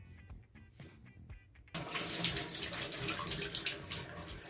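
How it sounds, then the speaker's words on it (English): Water gushes steadily from a bathtub faucet during a cartridge replacement, starting abruptly after a quieter stretch of small clicks and handling noises, then pouring loud and close with a constant hiss. "I needed to let all water go before I disassemble more."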